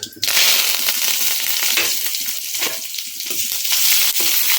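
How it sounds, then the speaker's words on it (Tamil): Onion and curry leaves fry in hot oil for tomato sambar, giving a loud, steady crackling sizzle that starts abruptly after a brief quiet moment and carries on without any talking. "வெங்காயம் நல்லா வதங்கட்டுங்க"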